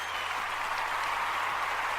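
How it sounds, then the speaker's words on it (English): Applause sound effect played during a talk, an even wash of crowd clapping that holds steady throughout. "Mac, that deserves a huge round of applause, and we do have applause sound, so here you go first"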